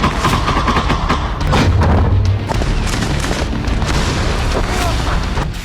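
Shelling explosions from the Russia-Ukraine war boom and crack repeatedly in dense succession, loud and rumbling, with a spoken voice faintly mixed in.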